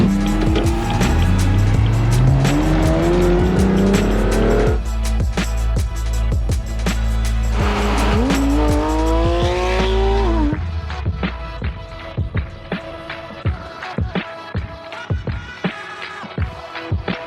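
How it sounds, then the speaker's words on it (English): A Porsche GT3 drives hard, its engine climbing through rising revs in several strong pulls with gear changes, loud and close, then easing into lower, choppier engine noise with intermittent bursts near the end. "I bet you're wondering why I'm driving a Porsche GT3"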